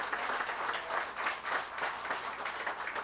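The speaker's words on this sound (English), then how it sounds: "So let's send up a shout and a clap" Steady applause and hand clapping fill an Urban League ceremony honoring Black journalists and communicators, a dense, continuous crowd clap with slight swells throughout.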